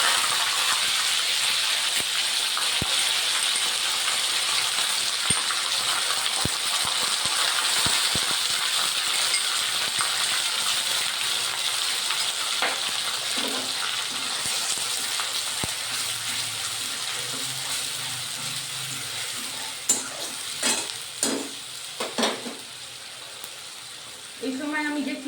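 Onion paste hitting hot oil for mutton do pyaza, a steady bright sizzle and hiss with scattered pops and clinks, growing busier toward the end; no talk over it.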